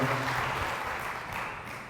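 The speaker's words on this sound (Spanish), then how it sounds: "Fuerte el aplauso al Señor por su amor y su misericordia." Congregation applause at a church service, a dense, steady wash of many hands clapping together, fairly loud and close, fading slightly toward the end with no voices over it.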